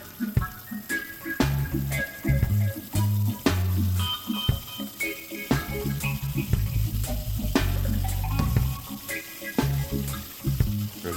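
Saltfish chunks fry in hot oil for an escovitch dish, giving a steady crackling sizzle broken by sharp clattering knocks and scrapes of utensils against the pot.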